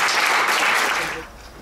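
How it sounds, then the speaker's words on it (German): Audience at an alternative media award ceremony bursts into loud, dense applause that holds steady for about a second, then thins and fades. "großen Applaus für"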